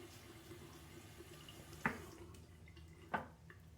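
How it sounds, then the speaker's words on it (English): Warm water is splashed onto a face at a sink during a skincare routine, giving two faint, brief splashes about a second apart over a low, steady background hiss. "So I'm just going to re-splash my face, re-dampen my face with some warm water."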